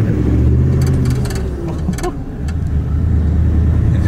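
A truck likened to a big farm truck drives along with no snorkel fitted, its engine a loud, steady low rumble close up inside the cab, easing briefly in the middle before building again.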